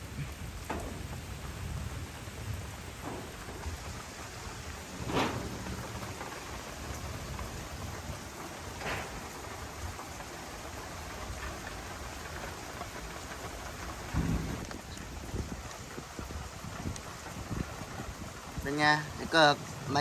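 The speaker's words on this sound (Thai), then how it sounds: "ฝนตกนะครับ ผมมาถึงปุ๊บฝนก็ตกมาเลยนะ" Heavy rain pours steadily outdoors in strong wind, a dense continuous hiss with occasional low rumbles and gusts, while someone talks over it.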